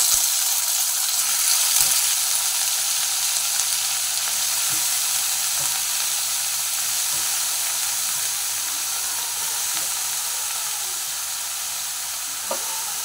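Bottle gourd, potato and green chili fry in a pan with a steady, loud sizzle and hiss, and scattered scrapes and knocks of stirring run through it, with no talking.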